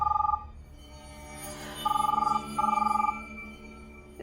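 A telephone bell rings in three bursts of trilling double tones, close and fairly loud, with a low room murmur between rings.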